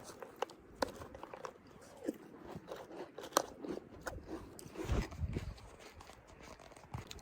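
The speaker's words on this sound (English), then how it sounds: "All right, I'm gonna eat pink cereal" Crunchy pink breakfast cereal eaten close up while car camping, with crisp bites and chewing crunches repeating irregularly and fairly quietly, with no talking.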